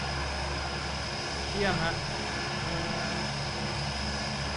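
Airplane in BeamNG.drive droning steadily in flight just after takeoff, a constant engine hum with a brief swell in the middle, while a voice speaks briefly over it.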